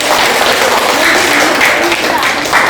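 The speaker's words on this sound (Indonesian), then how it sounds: "Tepuk tangan dulu semuanya." A classroom full of students applauds, steady dense clapping throughout, loud and close.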